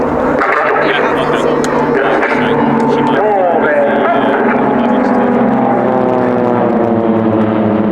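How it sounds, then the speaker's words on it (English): Propeller engine drone from Pilatus PC-7 aircraft of the Swiss Air Force team at an air display, a loud sustained hum with shifting pitch as aircraft pass, with people talking over it. "the next flyby will be a crossing with 4 aircraft"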